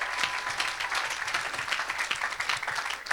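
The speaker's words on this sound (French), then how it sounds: "Quelqu'un acclame déjà le Seigneur avant d'entendre les merveilles." A church audience applauds in acclamation of the Lord at an evangelistic service, dense continuous clapping from a crowd, fairly close and sustained throughout.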